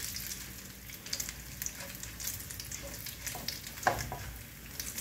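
Cumin seeds frying in hot oil for Bengali tok jhal cauliflower, a soft steady sizzle with scattered crackles and a sharper pop near the end, faint and close.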